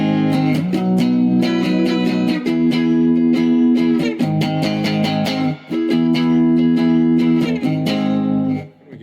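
Squier Bullet Mustang electric guitar played clean through both single-coil pickups, with a run of sustained, ringing chords and picked notes, close and loud, a few brief pauses between phrases and no talking.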